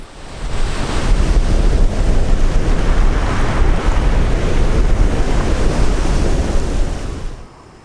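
Strong gusting wind buffets the microphone while rough sea waves crash and roar steadily, loud and continuous.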